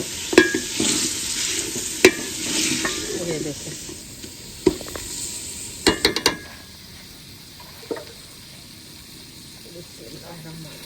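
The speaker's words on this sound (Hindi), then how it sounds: "बस इसमें शोरबा ऐड करते हैं।" Broth pours into a pot of chicken biryani that sizzles and hisses steadily, with a spoon clinking and scraping against the pot a few times while someone speaks over the cooking noise.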